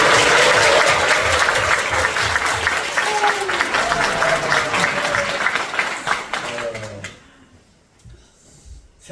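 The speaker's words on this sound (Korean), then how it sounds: "딴 교회 오신 분들 위해서 박수 한번 치겠습니다." A church congregation at a Korean revival meeting claps together in a loud, dense burst that holds for several seconds, then thins into scattered claps and fades out.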